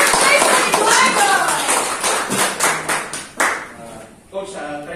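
A group gives a rhythmic welcoming clap for a coach at a product presentation, the claps bunched and lively with voices and cheers over them, then fading as talk takes over near the end.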